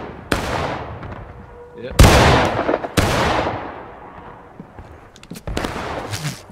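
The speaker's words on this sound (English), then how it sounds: "Alright, boys, independent fire on that right side." Rifle volleys crack in the Civil War-era game War of Rights, several sharp, loud shots spaced a second or so apart, each followed by a rolling echo, with a brief spoken reply among them.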